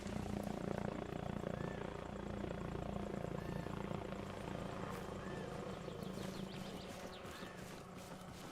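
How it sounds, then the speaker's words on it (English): A helicopter flies in the military game Arma Reforger: a steady, rhythmic thudding of rotor blades with a whining engine hum, fairly faint and continuous over low game ambience. "There's a heli on point."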